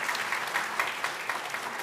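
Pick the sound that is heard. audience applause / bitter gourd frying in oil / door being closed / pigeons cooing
audience applause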